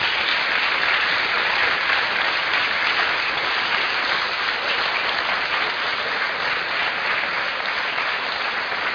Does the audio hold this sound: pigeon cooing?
no